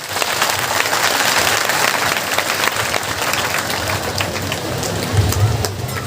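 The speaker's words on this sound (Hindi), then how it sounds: "इनके लिए भी एक बार जोरदार तालियां हो जाए" A village crowd at a Bhagwat Katha gathering breaks into loud, sustained applause, a dense continuous clapping roar that holds steady throughout.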